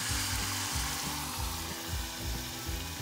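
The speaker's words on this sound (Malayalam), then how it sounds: "ഇതിലിത് വറുത്തെടുക്കാൻ പോവുകയാണ്" Batter-dipped bitter gourd slices deep-frying in hot oil give a dense, steady sizzle and crackle. A low rhythmic thumping runs underneath, and no one speaks.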